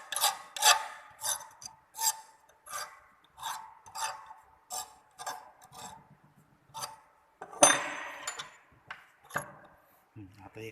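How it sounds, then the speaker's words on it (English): A hand file rasps across a metal burr in a smithy, giving about a dozen short, fairly close strokes in a steady rhythm with brief pauses between them. "The burr will be removed clearly using a file."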